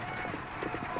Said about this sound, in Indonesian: Nah, itu adalah suara kuda